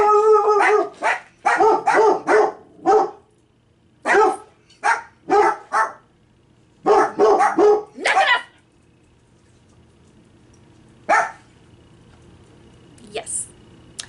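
Two dogs barking at someone at the door, loud, close bursts of barks in quick clusters with pauses, then a couple of isolated barks and a faint yip near the end.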